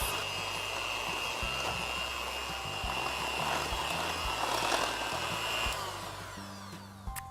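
An electric mixer beats eggs into a lemon curd mixture, giving a steady, close whirring motor drone that runs without a break, with slight shifts in pitch as the beaters work and no voices over it.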